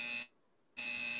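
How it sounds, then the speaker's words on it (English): A door buzzer sounds in a movie scene, two loud flat electric buzzes with a brief silent gap between them. "Could you buzz this door?"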